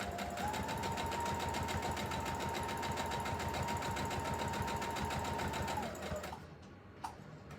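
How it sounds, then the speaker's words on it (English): A sewing machine straight-stitches around the mouth of an emoji pillow, a close, steady rapid whir with a faint whine, running evenly for about six seconds before stopping, followed by a couple of soft clicks. "I'll do a regular straight stitch and go around the mouth."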